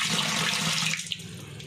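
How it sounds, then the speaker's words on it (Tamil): Pearl millet being washed in a vessel of water, a short burst of close sloshing and splashing that quickly settles. "தூசியெல்லாம் இருக்கும், அதனால் நல்லா கழுவி எடுத்துருவோம்."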